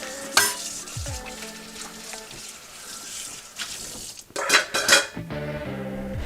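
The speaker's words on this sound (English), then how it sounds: "The wok that I'm cooking on is a round-bottom carbon steel wok." Sauce bubbles and sizzles in a round-bottom carbon steel wok while a metal utensil scrapes and clanks against the pan in bursts, close up, with some splashing near the end and no talking.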